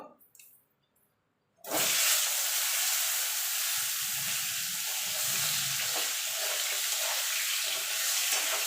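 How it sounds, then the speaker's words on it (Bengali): Sliced ridge gourd dropped into hot oil, already used for frying rui fish, bursts into a loud, steady sizzle after a quiet pause, with occasional soft stirring knocks under the hiss. "এই তেলে ঝিঙেগুলো ভেজে নেব।"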